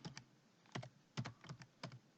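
Someone types a file name on a computer keyboard in a QGIS session, producing quick, close, crisp key clicks in small irregular clusters with no talking.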